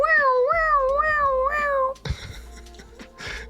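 A voice imitates a wailing siren as a spoiler alert, producing a wavering, rising-and-falling tone for about two seconds that sounds like a yowling cat, followed by quieter speech and background chatter.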